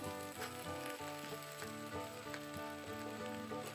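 Cabbage and sausage smothering in a pot over medium-low heat give off a steady, close sizzle with soft crackles and pops that run without a break.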